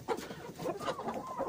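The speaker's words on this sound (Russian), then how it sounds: "Курочка вот." A young hen from this year's brood, sitting on a nest, gives a steady run of soft, close clucks and low murmuring calls with no talk over them.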